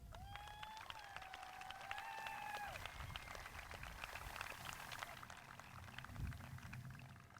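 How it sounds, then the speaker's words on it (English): Applause at a 2016 graduation ceremony, a broad wash of clapping from the crowd with a few whistles and cheering voices rising over it early on, fairly distant and steady throughout. "let's give a round of applause for the people who made this possible"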